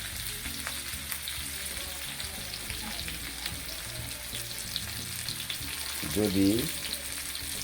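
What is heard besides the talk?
hilsa fish frying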